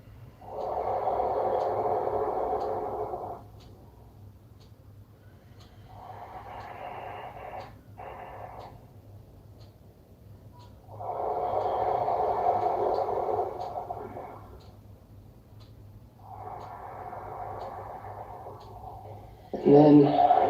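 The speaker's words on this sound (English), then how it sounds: "And then breathing slowly and deeply into that space." Slow, deep breathing during a vinyasa yoga class, long airy inhales and exhales in an even cycle of about four breaths, close and soft over a faint background hum, ending in a brief louder sound.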